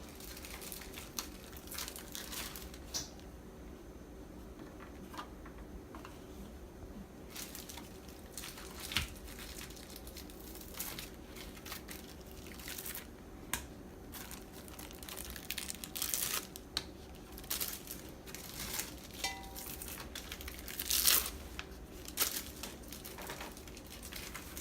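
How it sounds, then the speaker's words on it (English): Crinkling plastic wrap being peeled off an individually wrapped apple empanada pastry, close and quiet, with soft intermittent crackles and small crunches under a steady background hum. "they're individually wrapped in plastic. So if I take one of these, unwrap"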